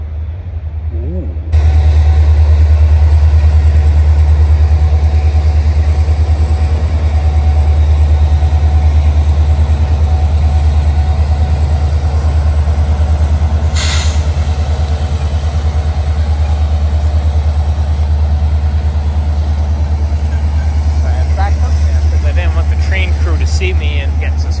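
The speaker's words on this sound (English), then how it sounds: "I'm happy to see this train roll through now" A train rolls past on an active rail line, a loud, steady low rumble that starts abruptly and holds close by for the whole stretch, with a brief hiss partway through.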